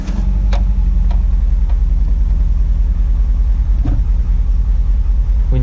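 A 1989 Volkswagen Vanagon engine turning over on a cold start, a steady low rumble with a few faint clicks and ticks, close and continuous with no talking.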